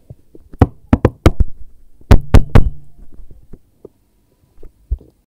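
Sharp, close knocks on a door come in two quick bursts of three or four raps each, then a few softer, scattered taps with silence in between.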